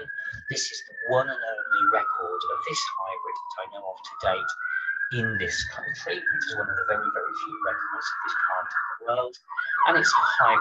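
A police car siren outside in central London wails in slow rising and falling sweeps, moderately distant and continuous beneath someone speaking throughout.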